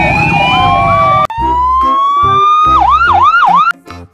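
Toy police motorcycle siren blaring up close, first a rising electronic tone, then a rapid yelping warble, stopping abruptly followed by brief mechanical clicks.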